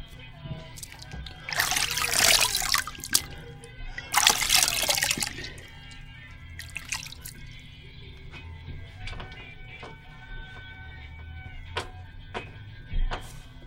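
Water splashes in two strong bursts as hands wet a face before shaving with a double-edge razor, followed by lighter trickles and drips nearby.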